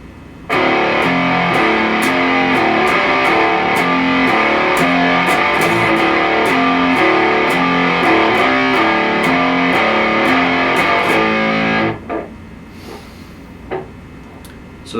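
A heavily distorted electric guitar plays a riff for about twelve seconds, loud and up front, then cuts off, leaving a few faint handling noises.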